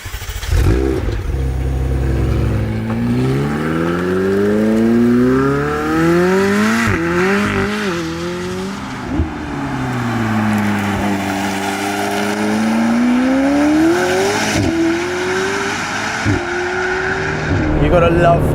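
A McLaren 765LT sports car with a Novitec exhaust roars through long rising revs and gear changes, pitch sweeping up and falling, loud and continuous with occasional sharp shifts and tire noise.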